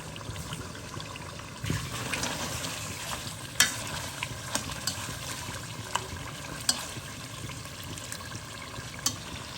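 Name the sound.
meat being fried in a pan for spinach curry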